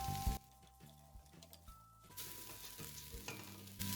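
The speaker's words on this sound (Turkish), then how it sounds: "patateslerimi de ilave ederek kavurma işlemine devam ediyorum" Lentils and potatoes sizzle and crackle in a pot while stirred, with scraping and clattering, and the frying grows louder partway through.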